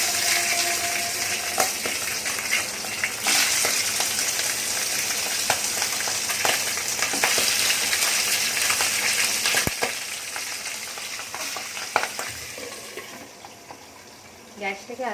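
Fish heads fry in plenty of hot oil in a pan, a loud, constant crackling sizzle that runs throughout with a few sharper pops and faint background voice.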